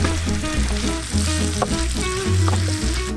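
Ginger and garlic hit hot oil in a curry pan over an outdoor fire in Assam, giving a loud, steady sizzle with repeated low thuds and scraping from the pan.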